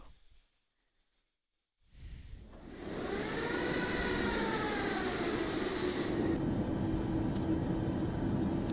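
Boeing 737 jet engines in Microsoft Flight Simulator 2024 spool up for takeoff after a near-silent pause, a rising whine swelling into a loud, steady roar.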